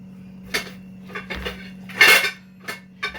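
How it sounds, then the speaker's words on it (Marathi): A seven or eight month old baby granddaughter bangs metal pots and pans in a home kitchen, several sharp clattering clanks at irregular intervals, one louder crash in the middle, over a steady low hum. "माझी नात ना भांडे खडबड खडबड सारखी भांड्यात राहती"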